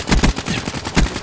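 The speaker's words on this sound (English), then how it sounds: "That was the most awkward gunfight I've ever been in." Rapid automatic gunfire from a gunfight in Call of Duty: Black Ops 3, a loud close burst of several shots followed by another quick volley, with no talking.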